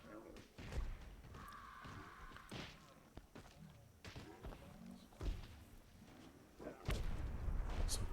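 An explosion in the Myth II: Soulblighter strategy game, where a bomb blows up a unit in a multiplayer free-for-all match. Several dull thumps and bursts hit at irregular intervals, with a louder blast near the end, all under a commentator's talk.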